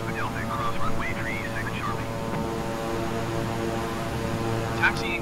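Twin-engine King Air 350i turboprop taxiing in a Microsoft Flight Simulator game, a steady droning engine hum with a constant tonal whine at moderate level, and a voice speaking over it briefly.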